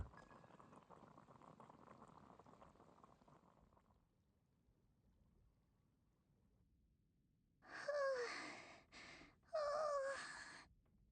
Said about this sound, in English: I'll boil on some water.